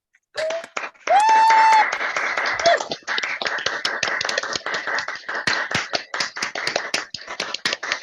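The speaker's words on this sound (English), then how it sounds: "Can we give them all a massive round of applause?" A crowd at an LGBT poetry open mic fundraiser claps in a sustained burst of applause, with a brief whistle near the start and the clapping thinning out toward the end.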